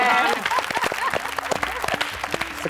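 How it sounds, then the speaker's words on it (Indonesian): Audience applause at a family-themed television show, a burst of scattered clapping over a couple of seconds, fairly close, mixed with voices. "Ya, kita kasih tepuk tangan."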